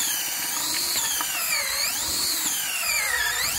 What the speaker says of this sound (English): So that's what it looks like when you're drilling.